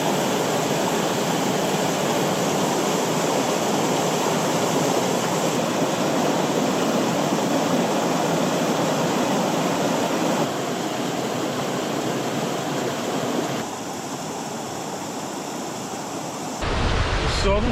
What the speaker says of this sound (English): Just following the Annalong River up here.